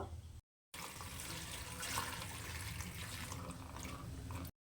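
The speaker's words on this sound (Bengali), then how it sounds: "তো চুন জলটা ফেলে দিয়েছি" Lime water is poured off soaked ash gourd pieces, a steady rush of running and splashing water for a few seconds between short silent gaps.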